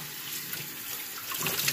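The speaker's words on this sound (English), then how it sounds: "So now what we're gonna do is we're gonna turn on the water." Water runs steadily from a kitchen tap while a can and lid are being washed, a close, even hissing rush that grows slightly louder toward the end.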